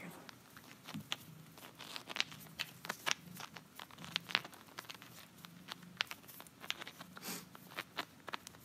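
Chunks of Himalayan salt from a salt lamp handled close by, giving a steady run of small crunchy clicks and crackles that tap and grind against each other throughout, with no talking.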